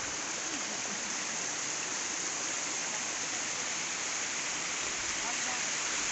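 Paanbari waterfall pours in a steady, broadband rush of falling water that holds unbroken at close range for the whole stretch, with no other sounds standing out.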